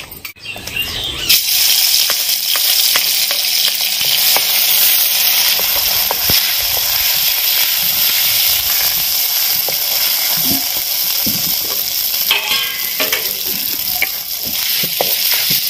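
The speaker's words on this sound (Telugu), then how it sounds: "మసాలా ఫ్రై అవుతుంది కదండి" Masala sizzles steadily in a generous amount of hot oil for chicken fry, a dense continuous crackle with occasional stirring scrapes, loud and close with no talk.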